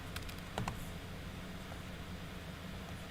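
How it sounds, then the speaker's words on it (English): Computer keyboard typing while coding in Python, a few quick close keystroke clicks near the start and then mostly quiet room noise. "Lots of typing, but it's only done once now."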